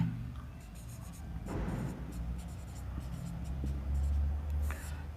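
Chalk or marker writing on a classroom board, a run of scratchy strokes in the middle and at the end, close and fairly clear, with low background hum and no talking over it.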